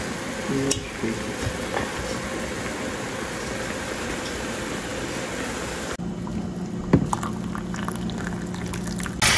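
Water bubbling at a rolling boil in a pot of cooking fish cakes, a continuous close churning hiss with a few clinks partway through.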